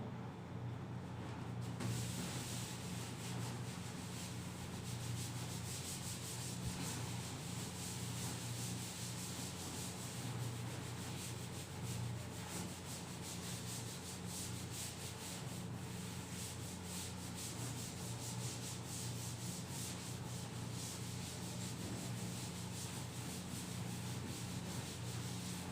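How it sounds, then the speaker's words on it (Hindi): Writing is wiped from a classroom board with an eraser, a steady, scratchy rubbing that keeps going without a break for a long stretch, soft but close, with no voices over it. "चलिए ठीक, इसको मैं रब कर दे रहा हूं।"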